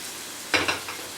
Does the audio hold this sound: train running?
no